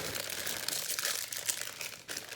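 Close crinkling and crackling of a thin plastic bead package being handled and pulled open, continuous rustling with a few sharper crackles.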